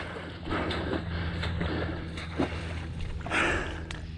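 A Kawasaki 650SX jet ski fitted with an SXR800 engine runs out on the water, giving a steady close engine drone mixed with wind and spray rush, with a few louder surges.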